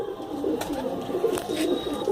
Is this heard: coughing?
no